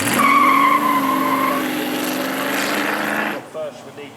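A 7.8 litre V8 car runs loud and close at a supercar weekend, holding a steady droning note with a high whine for about three seconds before cutting off to quieter rumbles.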